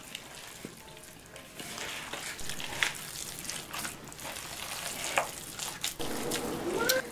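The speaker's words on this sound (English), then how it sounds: "Just get in there and start mixing it up." Meatloaf mixture squished and kneaded by hand in a bowl, producing continuous wet squelching and smacking close up, with no voices.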